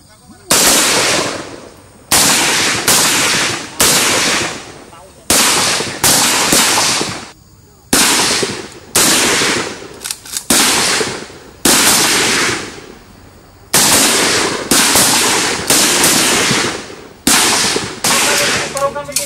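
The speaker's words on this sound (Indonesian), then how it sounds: "Dengarnya tuh kalau AK itu." Navy shooters fire AK rifles on full automatic at a range: repeated loud, close bursts of rapid gunfire, each lasting about a second with short gaps between them, plus faint voices in the pauses.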